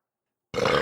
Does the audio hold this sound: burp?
yes